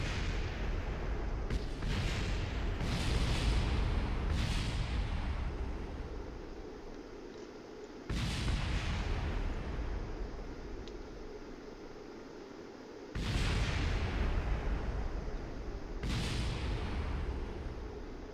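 Rocket explosions in Kerbal Space Program: a string of loud, broadband booms bursting out one after another, each decaying into a rumbling roar, with several closely spaced blasts early on and more heavy hits later.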